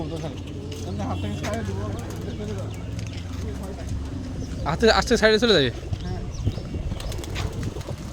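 Black-beaked tanabaji pigeons, big-size racers kept on an abandoned rooftop, coo low and steadily, then a burst of wing flapping erupts midway, while someone talks throughout.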